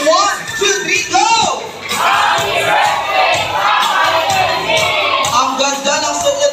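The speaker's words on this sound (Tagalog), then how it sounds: "Palakpak na may sigawan." Guests at a 70th birthday celebration erupting in loud cheers, shouts and whoops, a lively crowd roar that stays close and continuous with voices calling out throughout.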